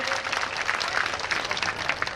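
Steady audience applause welcoming a revered saint at a devotional gathering, dense and continuous clapping throughout, moderately close.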